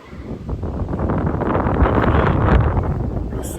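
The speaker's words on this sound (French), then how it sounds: "mais là le vent souffle" Strong wind blows across the top of a high apartment building in Sochi on Russia's south coast, a loud, close, rumbling buffet that gusts steadily against the microphone, with no talk.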